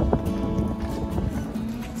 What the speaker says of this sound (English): So it's super windy today